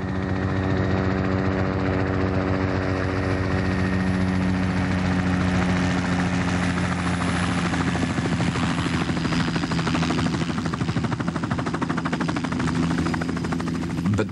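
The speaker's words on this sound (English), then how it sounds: "Helicopters were essential during every phase of the operation." A helicopter's steady rotor thud and engine whine fill the scene at a remote New Zealand gas pipeline job in 1984, loud and continuous, with the chopping growing denser as it nears.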